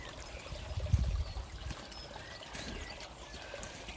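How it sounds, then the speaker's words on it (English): Steady low trickling and gurgling of a small garden stream topped up with tap water, a soft continuous wash with a slightly louder burble near the start and faint birdsong in the background. "The stream is gurgling away."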